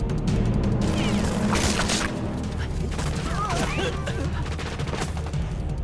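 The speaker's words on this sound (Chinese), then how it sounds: "光天化日敢朝警察开枪" Gunfire in a shootout with police in a Chinese crime action film, dense bursts of shots and crashes with shouting voices over continuous loud action noise.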